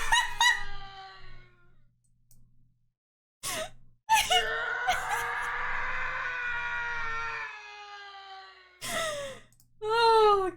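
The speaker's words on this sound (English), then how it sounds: "The Howie scream. It's called the Howie scream." The Howie scream sound effect plays as a loud, drawn-out wailing shriek with harsh, strained tones. Bursts of crying and yelling come between short silences, ending in a rising, warbling scream.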